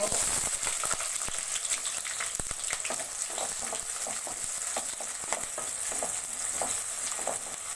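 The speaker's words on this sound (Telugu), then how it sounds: "ఆనియన్ మంచి బ్రౌన్ కలర్ వచ్చేంత వరకు వేయించుకున్నామండి" Onions and green chilies frying in a pan for Andhra-style prawn fry, a steady close sizzle with scattered stirring scrapes and crackles throughout.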